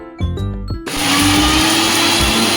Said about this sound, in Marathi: मिक्सरला फिरवून घेत आहे.